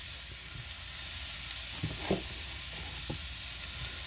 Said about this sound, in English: we're just going to get a good sear on each side